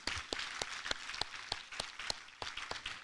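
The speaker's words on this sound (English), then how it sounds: "A big round of applause to Mr. Liu Yichun." Applause from a conference audience at a design talk, heard as a thin, fairly quiet patter of scattered claps with a few sharper individual claps standing out, continuing steadily.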